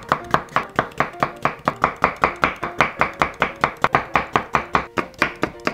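A knife slices seeded cucumber diagonally into even pieces on a cutting board, producing a quick, regular series of sharp close chops, about four per second, with no talk.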